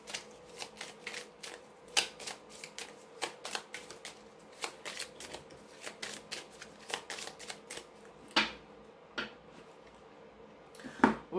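A deck of cards is shuffled steadily for several seconds, a quick run of soft riffling flicks and taps close to the mic, with no talking over it.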